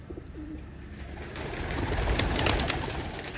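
Pigeons kept in cages coo softly amid a dense wash of background noise, their low calls rising slightly louder toward the end of the short stretch.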